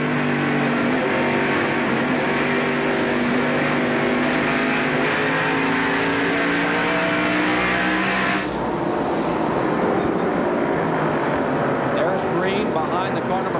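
NASCAR Busch Grand National race cars at Indianapolis Raceway Park roar continuously as the pack runs, engine pitch shifting as cars pass, loud and steady throughout.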